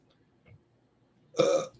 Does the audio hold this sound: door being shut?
no